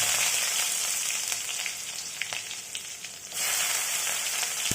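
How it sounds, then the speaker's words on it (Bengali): Garlic, ginger and a large dried red chilli fry in oil on high flame, producing a loud, dense sizzle that dips briefly and then surges back. "তা হাই ফ্লেমে ভালো করে ভেজে নেবো"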